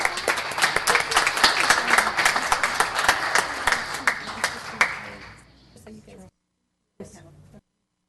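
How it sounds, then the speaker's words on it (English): Audience applause at a city council meeting, a steady roomful of clapping for about five seconds that fades out, followed by a short second burst of claps after a brief pause. "a round of applause to Charles for all the programs that he has"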